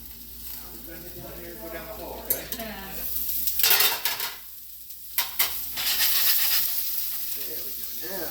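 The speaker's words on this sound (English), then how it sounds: "this is starting to sizzle good" Food sizzles steadily in a frying pan while a bird's nest dish is cooked, with stirring clatter over the hiss and someone talking intermittently over the sizzle.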